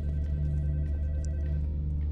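A telephone rings in the Roblox game Interliminality, a steady tone held over a constant low in-game drone, with no talking.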